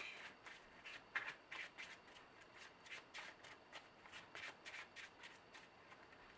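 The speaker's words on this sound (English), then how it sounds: "I'm going to shuffle the deck" A deck of cards for the Marvel Legendary card game is shuffled repeatedly, giving quick rhythmic riffling bursts, soft and close with no talking.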